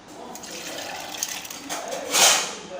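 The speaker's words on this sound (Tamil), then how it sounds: "மிக்சி ஜாரில் உளுத்தம்பருப்பை அது ஊறின தண்ணியோடு அப்படியே சேர்த்துக்கிறேன்" Soaked urad dal and its soaking water are poured into a mixer jar, giving a steady close splashing and trickling that swells into a louder gush near the end.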